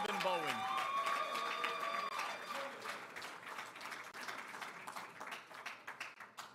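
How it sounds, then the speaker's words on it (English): Audience at a college athletics hall of fame induction ceremony breaking into applause, a dense run of clapping that thins and turns to scattered claps, mixed with crowd noise. "a round of applause for the newest member of the Hofstra Hall of Fame, Stephen Bowen"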